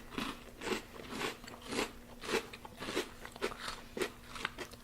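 Nesquik cereal crunched between the teeth in a string of about eight bites at a steady pace, close and fairly quiet, with no talking.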